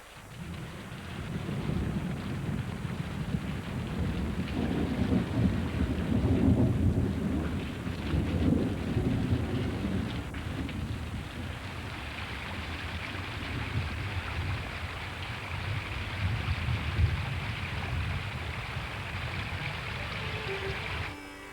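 Monsoon rain pours steadily on a Sri Lanka forest while thunder rolls low and rumbling in long swells, the downpour a constant hiss throughout and no voices present.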